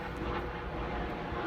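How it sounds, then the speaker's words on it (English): A helicopter passes overhead in central London, a low, steady rumbling drone at moderate distance with no talking. "Just waiting for the helicopter to go over."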